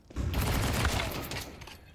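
A short burst of close gunfire in a competitive shooter match, several overlapping blasts rolling together over about a second and then fading out.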